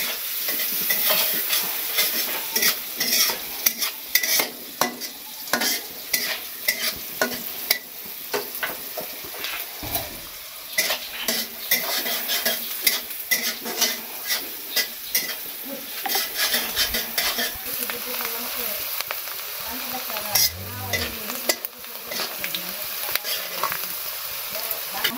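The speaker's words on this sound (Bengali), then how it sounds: "মাংস রান্নার জন্য পরে তেল দিয়ে তেজপাতা আর পেঁয়াজ দিয়ে দিলাম" Meat fries in oil with bay leaves and onion, giving a continuous close sizzle. A spoon repeatedly scrapes and clinks against the pan in an irregular stirring rhythm, with no talking.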